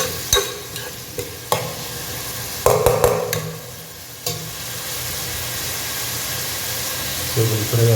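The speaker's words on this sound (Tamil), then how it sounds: "இது கொஞ்சம் நெய்யில் ஊற்றிக்கலாம், சீக்கிரம் வெங்காயம் வதங்கும்" Onions fry in ghee for a fish curry with a steady, close sizzle, broken by clattering stirs and scrapes early on.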